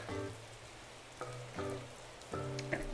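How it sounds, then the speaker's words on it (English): Steady rain falls across an island in Animal Crossing, a soft continuous hiss under a melodic game music loop with recurring tonal notes, moderately loud and with no talking. "It's always raining on my island, my friend."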